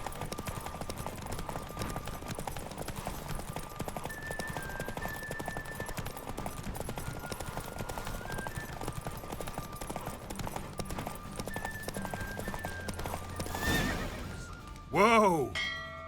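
A horse in The Witcher 3 gallops with steady hoofbeats under a running music score during a race, then gives a loud, close whinny near the end.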